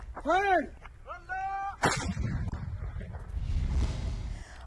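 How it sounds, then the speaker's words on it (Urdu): Pakistani army artillery guns firing: one sharp, loud blast followed by a long rolling rumble. Shouting voices are heard just before the shot. "پاک فوج کی جانب سے آرٹلری فائر کا استعمال بھی کیا جا رہا ہے"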